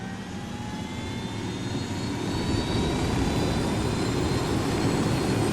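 A helicopter flies steadily in Ghost Recon Wildlands, a loud continuous engine roar and whine that swells slightly as it draws nearer, with no voices over it.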